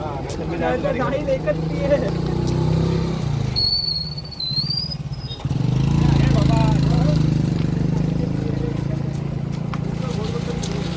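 A vehicle engine rumbles nearby and passes, with a brief squeal midway, while people talk and shout over street noise.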